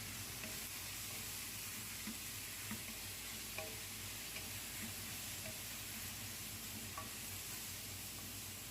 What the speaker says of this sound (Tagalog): habang pinalambot natin yung sibuyas, bawang at saka luya, ay pinagolden brown natin